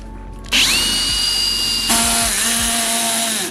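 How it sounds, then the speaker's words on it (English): Power drill with an 11/64 bit drilling into the lock of an old rusty gas tank: a loud, close motor whine in two bursts, the second pitch rising and then sagging under load. "Would I just freaking put it here and drill?"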